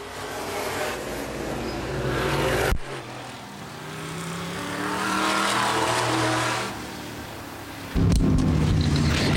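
Open-wheel modified race cars roar across the finish line at Baer Field Speedway during a 2012 feature. Loud engine drones pass close by, with a sharp cutoff and a fresh burst of engine noise near the end.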